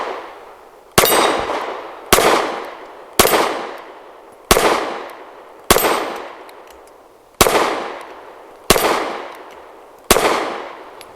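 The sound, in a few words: Kel-Tec P15 pistol shots, Magtech 115 grain rounds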